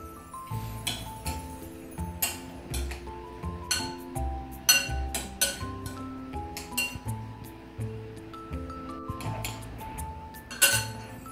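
Salad dressing with dried oregano is stirred in a glass container for a Greek salad, producing a steady run of bright clinks and pings as the utensil taps the sides, close and fairly quiet.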